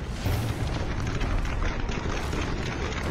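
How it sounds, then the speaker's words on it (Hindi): Security forces fire guns into the night sky during a protest: dense, overlapping booming bursts roll continuously, loud and reverberant, with no clear speech. "सुरक्षा बल की बंदूकों से निकल रही ये गोलियां आसमान का सीना चीरते हुए जाती दिखाई दी"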